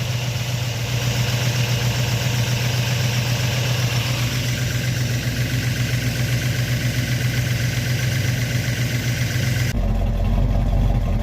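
A Chevrolet Monte Carlo SS454 big-block V8 idles after running about 25 minutes during thermostat and radiator cap testing, a steady low rumble that cuts to a deeper tone near the end.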